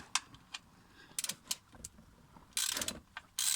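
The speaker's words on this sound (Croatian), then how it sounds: "Otpustimo šerafić za ulje. Znači rekli smo 13 ključ." A 13 mm wrench loosens the oil drain plug on a Ford Focus MK2 1.6 Duratec, giving quiet, scattered ratcheting clicks and creaks with short gaps, followed by a couple of denser bursts of clicking near the end.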